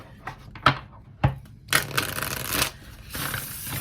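Tarot cards being shuffled by hand, with a couple of sharp riffle snaps early on followed by bursts of papery flutter and shuffling, close and fairly quiet.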